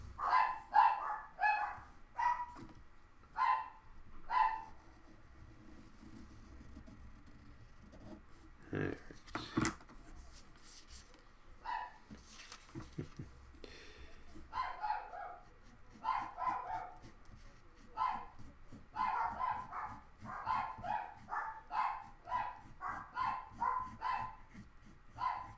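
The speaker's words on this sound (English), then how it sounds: "Sorry that you get to hear my dogs barking." Dogs bark in quick, yappy bursts at someone at the door, fairly close, in clusters with a short lull midway before the barking picks up again in a rapid string.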